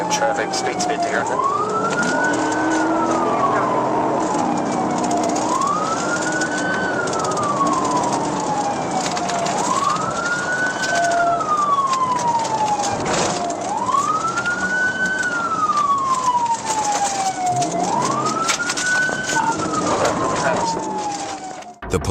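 Police siren on a pursuit car rises and falls in long, even wails, five cycles in a row, loud over a constant drone of the vehicle and road noise, with occasional faint voices beneath.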